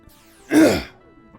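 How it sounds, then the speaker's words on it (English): One short throat clearing, close and fairly loud, a single rough rasp standing alone in an otherwise quiet room. "I keep having to clear my throat"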